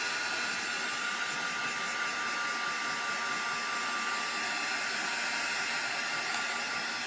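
A hair dryer blows steadily on a mixed media artwork, a loud, constant rushing whoosh that holds unbroken from start to finish with no talking.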